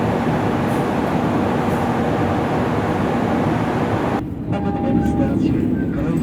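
The Progo passenger train in Indonesia rolls along the rails near Kroya station with a steady, heavy rumble heard from inside the carriage, while a voice speaks over it toward the end.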